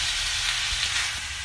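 Cauliflower stems fry in an iron wok with spices while being stirred, giving a steady close hiss and sizzle with soft scraping throughout.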